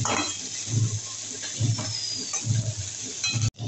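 Sliced onion and green chili lightly frying in a pan while being stirred, soft sizzling with a few scraping clinks of the spoon at a steady rhythm, fairly quiet and close.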